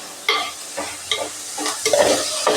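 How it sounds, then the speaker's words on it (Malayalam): Onions and coconut pieces are stirred and sautéed in a pan, giving a close, steady sizzle broken by several distinct scraping strokes of the spoon, with no talking. "ഇത് നല്ലോണം അങ്ങോട്ട് വഴറ്റിയെടുക്കാം"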